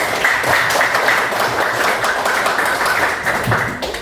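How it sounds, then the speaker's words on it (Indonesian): Students in a school learning session break into sustained applause, a dense, steady patter of many hands clapping together for about four seconds without pause. "kasih aplaus untuk semangat sekali."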